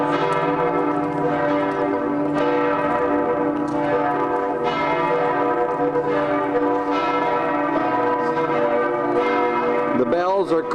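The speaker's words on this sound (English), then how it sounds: "The bells are calling us to worship, and we will enter now." Church bells ringing to call people to worship at the German church where Luther preached: overlapping, sustained peals with rich ringing overtones, strong and continuous, with faint voices near the end.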